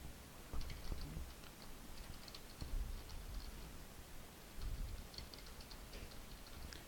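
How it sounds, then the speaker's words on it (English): Quick bursts of keys clacking on a computer keyboard sound faint and close, with short clusters of taps separated by brief pauses over a steady background hiss. "I'm going to type them all out quickly"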